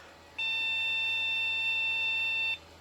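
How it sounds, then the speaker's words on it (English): An old Pentium PC sounds a single steady electronic beep, a pure high tone lasting about two seconds before cutting off, in an otherwise quiet room. "We just have beeps now."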